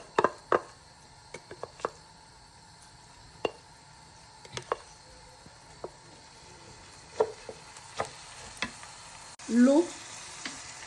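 Rice and lamb go into a pan of oil that is still heating, giving a soft, low sizzle with scattered clinks and scrapes of stirring spaced across the quiet stretch.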